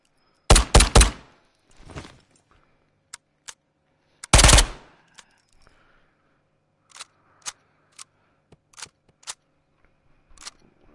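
Submachine-gun fire in the VR shooter Ghost of Tabor: a couple of sharp, rapid bursts stand out, separated by quiet gaps and scattered lighter clicks and clacks of weapon handling.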